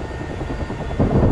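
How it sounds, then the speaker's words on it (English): Ka-50 attack helicopters approach in the DCS World flight combat game, a steady loud rotor thrum with engine drone that swells toward the end. "Okay, we've got KA-50s coming."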